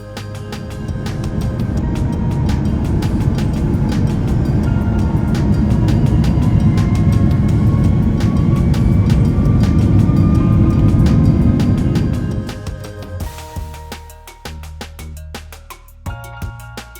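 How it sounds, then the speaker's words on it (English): A passenger airliner takes off from the runway, heard from inside the cabin as a loud, steady roar of engines and rumble for about twelve seconds, then easing into a quieter hum with rattles. "We took off from the runway"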